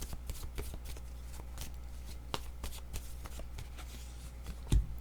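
Cards being shuffled and drawn for a couple's reading, a steady run of soft riffling flicks and slaps with a sharper snap near the end, close by over a low background hum.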